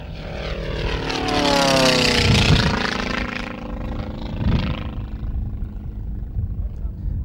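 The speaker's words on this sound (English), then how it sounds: "You can really hear the engine turning now." A propeller aircraft engine drones loudly and close by, propeller turning about 4,000 rpm, its pitch sweeping as it passes, with a low rumble and brief bursts of noise underneath.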